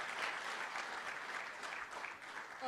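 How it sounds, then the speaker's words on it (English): Audience applause for conference panelists at a live pensions event, a steady, dense wash of clapping that holds evenly from start to finish with no speech over it. "big applause to our esteemed panelists."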